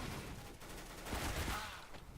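Rapid bursts of gunfire from Counter-Strike: Global Offensive in Arms Race mode run almost without pause for about two seconds, dense and loud, with a faint hint of a voice beneath.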